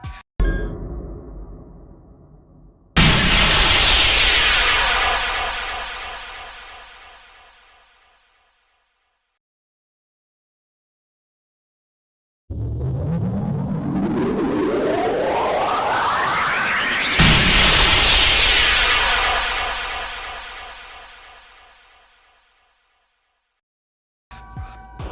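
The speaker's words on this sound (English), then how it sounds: "Here's the crashy crash sound." Two loud bursts of a crash sound from the game Sprunki Phase 6, each a broadband smash that fades out, the second joined by a sharply rising engine rev, with silence between.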